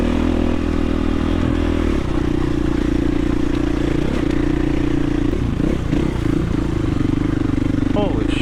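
Dirt bike engine droning steadily on a singletrack trail ride, close and loud throughout, with clattering and scraping from the terrain and brief rider voices over the motor.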